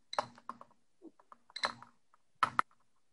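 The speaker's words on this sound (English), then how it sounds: "You hear the counter clicking?" Radiation counter held near a uranium ore sample rich in uraninite and brannerite, ticking in irregular bursts of sharp clicks with quiet gaps between clusters, close and clear.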